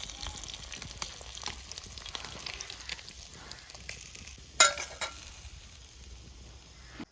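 Masala-coated fish frying in a pan, a continuous soft sizzle and crackle with a brief sharper spatter midway, close and moderately quiet, with no talking.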